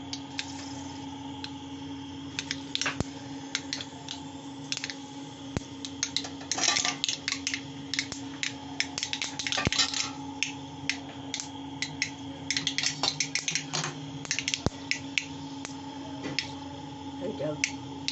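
Mustard seeds and dried red chillies spluttering in hot white oil, a dense run of sharp crackling pops with louder bursts mid-way, steady close-up over a constant low kitchen hum.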